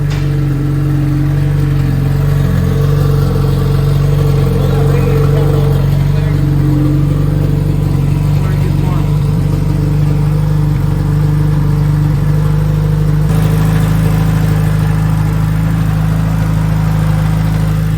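A freshly reinstalled race car engine runs steadily with a loud, constant mechanical drone and strong low hum, with some rattling texture throughout.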